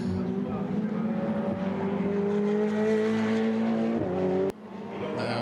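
A Ferrari Challenge race car at the Budapest circuit accelerates out of a turn and climbs uphill, its engine note rising steadily and loud before cutting off abruptly, with commentary running underneath.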